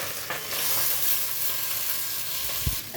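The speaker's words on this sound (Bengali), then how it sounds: "চালগুলো একটু নেড়ে ছেড়ে ভেজে নিচ্ছি।" Basmati rice stirred and fried in hot ghee with bay leaves, a steady close sizzle with scraping stirs and one sharp clack of the utensil near the end.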